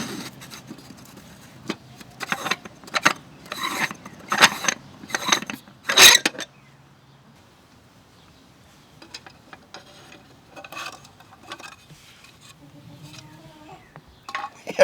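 A wheel lug cover on a C4 Corvette is twisted off, giving a run of close clicks and clattering knocks, then one sharp snap before things go quiet, with faint handling noises afterward.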